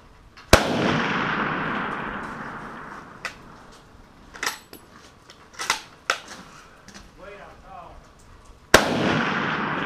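A 1917 German Mauser rifle fired in snow at a distant target: two sharp, loud reports about eight seconds apart, each ringing into a long decay, with handling clicks and a man's speech in between.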